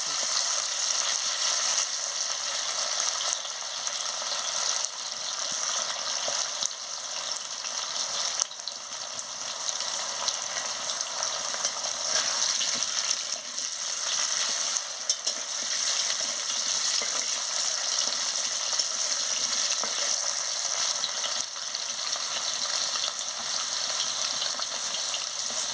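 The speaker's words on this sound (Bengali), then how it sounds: "আমি আলুটাকে ভালো করে ভেজে নিচ্ছি" Potatoes frying in a hot pan while an okra and potato curry is cooked, giving a steady, close, unbroken sizzle that holds at an even level throughout with no talk over it.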